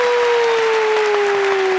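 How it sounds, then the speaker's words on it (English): Forum audience applauding as the political guests are introduced, a loud, dense, continuous roar of clapping with a steady tone running beneath it. "Give them a hand."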